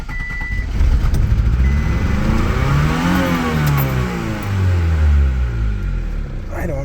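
A Honda Civic WagoVan engine fitted with a Weber carburetor cranks and revs up, rising and falling loudly and close by, with the throttle held and then released.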